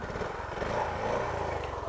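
A Honda CB350 motorcycle idles close by, its engine running in a steady low, even thrum with no talking over it.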